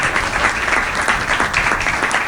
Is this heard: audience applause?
yes